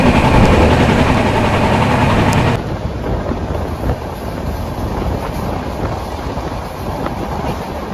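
The Vivek Superfast Express, train number 22504, runs from Dibrugarh to Kanyakumari, heard as a loud, steady rumble of the train close by that drops to a lower, continuous roar partway through, with no talking.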